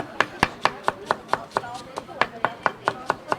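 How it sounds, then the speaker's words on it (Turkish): A knife chops onions on a board in a quick, steady rhythm of sharp, close taps, about four per second, with no talking, in Akçaabat on Turkey's Black Sea coast. "Biraz daha doğrayalım."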